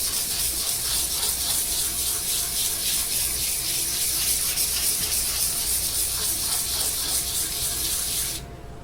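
Wet and dry sandpaper rubs over a super glue finish on a guitar, making a continuous close hissing scrub with faint rhythmic strokes, no talking, stopping just before the end.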